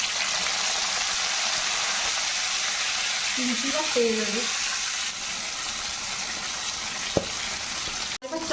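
Curry leaves and ginger fry in hot coconut oil in a pan, a steady hiss and sizzle under a woman's soft speech, with a brief clatter near the end.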